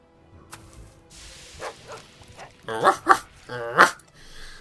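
A dog in the video game Kingdom of Hiden barks in several sharp, loud bursts, with softer whimpers and growls between them.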